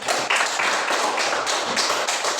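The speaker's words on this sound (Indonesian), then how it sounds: "Tepuk tangan untuk kamu kita ini." A classroom of students claps together in quick, steady rhythmic bursts, close and lively.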